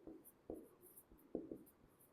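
Pen scratching out the given of a triangle proof on paper during a maths lesson, a few short, quiet bursts of writing strokes with pauses between, no talking.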